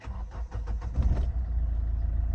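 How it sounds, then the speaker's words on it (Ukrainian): A 2008 Kia Ceed 1.6 diesel starts with the ignition key: a second of rapid starter cranking pulses, then the engine catches and settles into a low, steady idle rumble, close and loud. "Вставляємо ключик зажигання. Чекаємо, заводимо."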